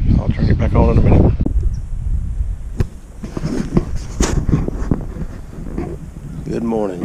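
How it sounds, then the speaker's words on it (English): Gusty outdoor wind roars steadily across the microphone on a cold, rainy South Carolina morning before a deer dog drive, with voices talking at the start and end. "it's a little windy and rainy"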